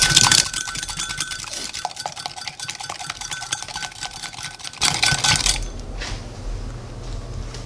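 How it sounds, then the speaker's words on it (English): A single egg beaten by hand with a wire whisk in a bowl, close up, giving rapid, steady metallic clicks and scrapes that swell into a louder, busier burst near the end before dying away. "I'm just going to take my whisk and just beat up the egg"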